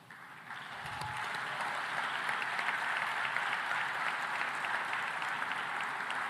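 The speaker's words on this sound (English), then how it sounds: "Please, round of applause." Audience applause for finalists at an African food systems forum, steady dense clapping from a large crowd that swells after a soft start and holds for several seconds without talk.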